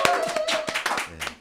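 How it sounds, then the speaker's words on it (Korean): A few people clap in a short, uneven run of distinct hand claps on a talk show set, with voices mixed in. "박수 쳐주십시오."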